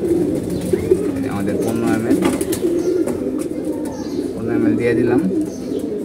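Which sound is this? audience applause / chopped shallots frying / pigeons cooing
pigeons cooing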